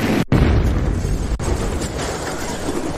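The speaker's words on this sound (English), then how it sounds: "It was a huge explosion." Huge explosion of a spaceship in an animated scene, a sharp booming blast at the start followed by a rumbling roar and a second crack, loud and alone without speech.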